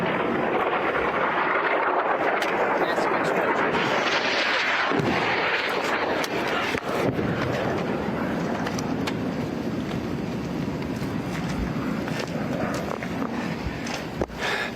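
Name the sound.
rocket fire from the Gaza Strip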